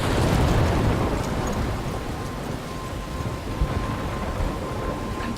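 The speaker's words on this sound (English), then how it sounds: "I'm trapped in a storm?" A thunderstorm with heavy rain fills the Life is Strange video game scene, a dense, steady downpour with low rumbling, loud and continuous, with no voices.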